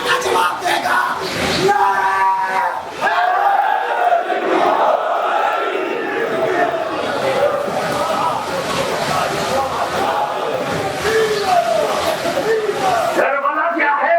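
A large congregation at an imambargah majlis during Muharram shouts back a religious slogan in unison, a loud, sustained roar of many voices. After a short burst of speech, the chanting fills the room and continues almost unbroken to the end.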